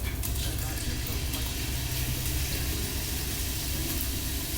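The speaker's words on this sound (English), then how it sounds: "Love that sound? Red meat cooking." Sirloin steak sears in hot oil in a pan over medium-high heat, a loud continuous hissing sizzle with a low rumbling undertone, steady and close throughout.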